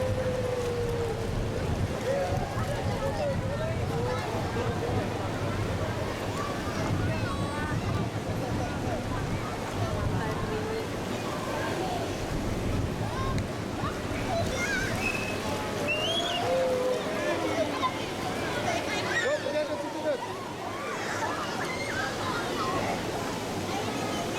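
Steady wash of surf and gusting wind on Drini beach in Yogyakarta, a crowded seaside spot, rolls on continuously while a person speaks over it.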